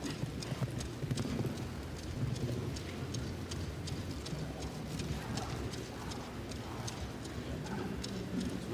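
Hooves of a show-jumping horse clip-clop at the Longines Grand Prix of Sweden 2023, a steady rhythmic beat over a continuous hiss of arena ambience.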